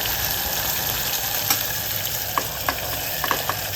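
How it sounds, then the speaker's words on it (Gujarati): Green lilva beans tipped into hot oil tempering in a pan set off a loud, steady close-up sizzle and crackle, with a few light taps and stirring knocks toward the end, no voices. "હવે આપણે આ લીલવાને વઘારમાં નાખી દઈશું"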